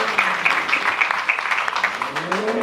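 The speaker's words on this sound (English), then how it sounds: "please give them a round of applause" A crowd applauds at a Chevrolet C8 mid-engine Corvette presentation, clapping steadily, a dense patter of many hands with a few louder pops, sustained throughout at moderate volume.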